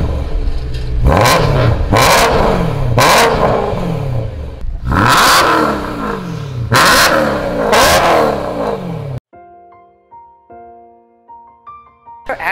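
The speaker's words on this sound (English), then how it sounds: "Do you want to give it one last rev?" A BMW M3 engine revs hard several times in loud, close bursts, each rising and falling with a roar, before cutting off into quieter background sound.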